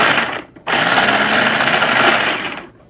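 An electric mini blender chops spices: a brief whir, a short pause, then a loud, steady motor whir with blades grinding for about two seconds before winding down.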